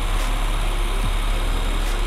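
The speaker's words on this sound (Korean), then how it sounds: "엔진 소리 일정합니다." A Nissan Maxima 3.5 Platinum engine idles steadily in the open engine bay, a constant even hum and hiss with no talking.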